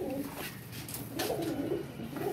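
Pigeons from a loft of Teddy pigeons with black wing feathers coo steadily in repeated low, rolling calls, close and fairly loud throughout.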